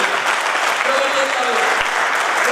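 A seminar crowd claps steadily, a dense, sustained round of applause with no pauses, filling the whole stretch at close range.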